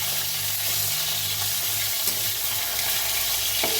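Pieces of bhetki fish sizzle and crackle steadily in hot oil in a frying pan, a constant close hiss with a few faint clinks.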